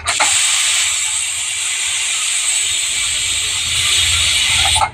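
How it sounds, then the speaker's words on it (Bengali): A pressure cooker with potatoes inside releases steam in a loud, continuous hiss that holds for several seconds before cutting off abruptly. "আর এই প্রেসারে দিয়ে দিয়েছি।"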